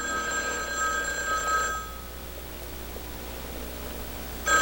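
A telephone bell rings in an indoor office or lounge, a steady tone that stops partway through, then starts again at the very end, with low room noise under it.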